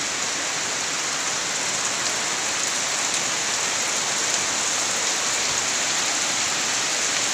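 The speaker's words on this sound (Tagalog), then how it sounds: "Ulang-ulan talaga." Heavy rain pours down in an even, unbroken hiss for several seconds, close and loud, with no one speaking.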